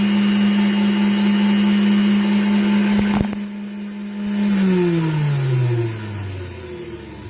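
A Hobart-built KitchenAid K45 stand mixer from the pre-solid-state era hums steadily at its lowest stir speed with a strong motor drone, then briefly clicks off and drops away before spinning back up and settling into a lower, wavering pitch.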